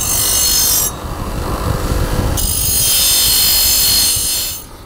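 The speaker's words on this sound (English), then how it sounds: "I'm now going to go take these pieces over to the wire wheel" A wire wheel strips the coating off galvanized steel pieces, giving a loud, harsh continuous grinding rasp with a change in pressure partway through before it winds down at the end.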